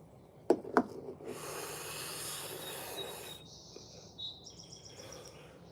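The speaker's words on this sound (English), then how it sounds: "I love hearing the birds." Birds chirp and sing faintly in the open morning air, with a couple of sharp knocks and a low background hum.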